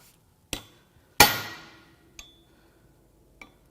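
A hammer strikes a chisel while loosening tight parts on a BMW N55 engine during a teardown, sounding as four sharp metallic blows at uneven intervals, the second loud and ringing, with quiet between hits.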